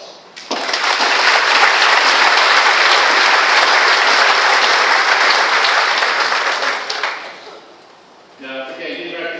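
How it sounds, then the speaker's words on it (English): A graduation audience at Fort Sill bursts into a loud, dense round of applause that holds steady for several seconds, then fades as a voice begins speaking over the tail. "So I'd like to give you another round of applause."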